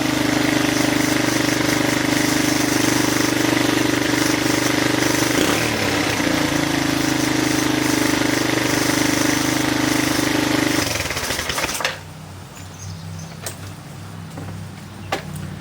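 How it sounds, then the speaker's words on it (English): A Kawasaki KLF 185 ATV engine jump-started past a dead starter solenoid, running loud and steady with a mechanical clatter, then cutting out abruptly near the end and leaving faint background noise. "So, I can jump start it like that"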